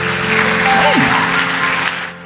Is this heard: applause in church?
yes